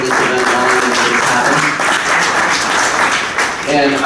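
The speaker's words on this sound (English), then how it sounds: "I actually want to start by giving Javi Suarez a round of applause" Audience applause at a candidate opening-statements event, loud and sustained clapping filling the whole stretch with no pause.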